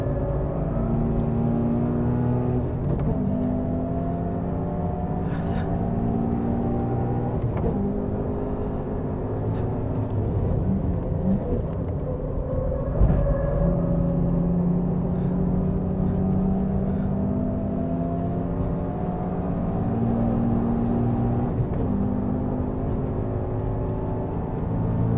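A car engine held at high revs on a race track, a loud, continuous droning roar whose pitch climbs repeatedly as it pulls through the gears, with no talking.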